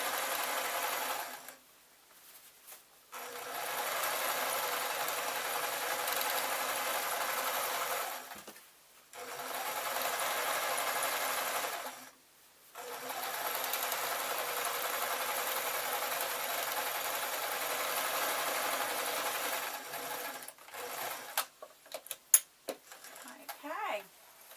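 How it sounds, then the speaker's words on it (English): Domestic sewing machine stitching a scarf made from leftover fabric, running in steady loud bursts of several seconds separated by short pauses, with a few light clicks and handling sounds at the end. "this will just keep it straight for when I sew the other side"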